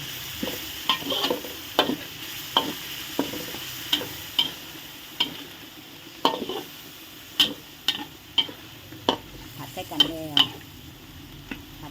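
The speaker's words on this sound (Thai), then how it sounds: "ผัดใส่กันเลย ผัดใส่กันเลย" Ingredients stir-fried in a pan for a chicken curry with pickled bamboo shoots and coconut milk, an even background sizzle under regular sharp clinks and scrapes of a spatula against the pan, close by.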